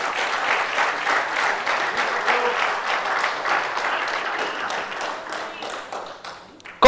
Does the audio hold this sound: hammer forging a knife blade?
no